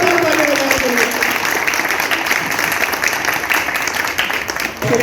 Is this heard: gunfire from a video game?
no